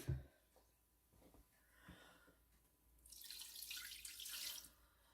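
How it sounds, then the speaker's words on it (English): Water is poured into a cooking vessel while burgers are being reheated, a soft rushing stream that rises and lasts about two seconds, preceded by a few faint knocks and drips in a quiet kitchen. "Then we're going to put in some water."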